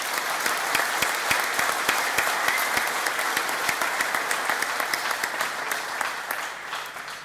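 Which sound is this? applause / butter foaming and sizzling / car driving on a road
applause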